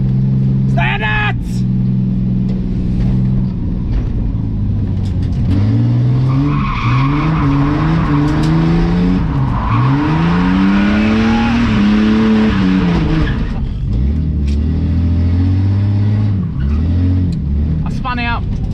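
A car drifting on a track skids and spins out, its engine revving loudly up and down with tires squealing in long, wavering screeches, close and continuous throughout.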